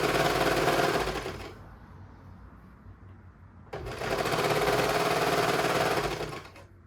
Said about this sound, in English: So I'm just gonna sew all the way down.